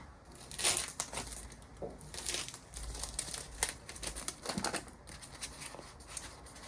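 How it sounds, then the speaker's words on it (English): Little plastic bags crinkle and crumple close up while small retail orders are packed, a steady run of dry rustling with sharper crackling bursts and no talking. "I'm gonna get 2 little plastic bags."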